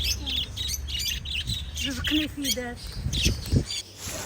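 Parrots in a bird shop chirp and squawk in short bursts throughout, mixed with nearby speech and shop background noise.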